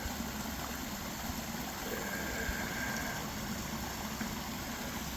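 A stream at a water-filling spot on the Appalachian Trail gives a faint, continuous rushing wash of flowing water with no other distinct sounds.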